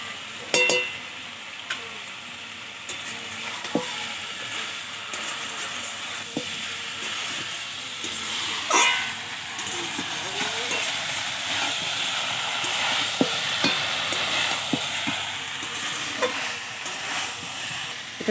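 Taro flowers and small field shrimp fry in a pan with a continuous loud sizzle and hiss, broken by intermittent scraping clicks of a spoon stirring, steady and close throughout.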